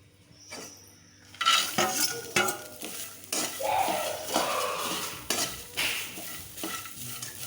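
Coconut slices being sautéed in a pan, with a spatula repeatedly scraping and clinking against the metal over a steady sizzle, close and lively, starting after a quiet moment.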